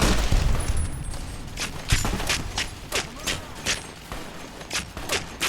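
Heavy gunfire from powerful long-range weapons in Fallout: New Vegas during the Battle for Hoover Dam, a steady run of sharp repeated shots and booms over a dense, noisy combat backdrop.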